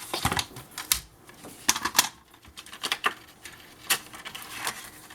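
Paper cutting on a small card for scrapbooking, a series of close, crisp snips and rustles in irregular bursts, with no voices.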